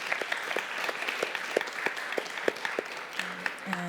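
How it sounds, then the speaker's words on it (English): Audience applause at a symposium on race, imprisonment and transformative justice, a moderate crowd clapping steadily with sharp individual claps throughout, fairly close and without talk. "Can we get a final round of applause for Raphael?"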